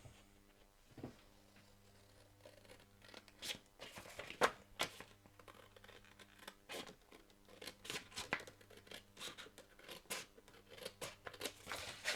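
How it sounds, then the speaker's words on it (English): Scissors snipping around paper templates, close and fairly quiet, a series of irregular crisp cuts and slicing crunches with short pauses and a low background hum, no voices. "So we're just going to put them on here and cut around them."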